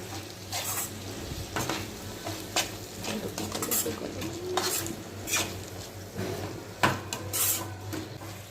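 Spoon stirring ground coriander and cumin powder into a ridge gourd and tomato curry in a pan, with scraping clinks of utensil on metal and a soft sizzle, no talk.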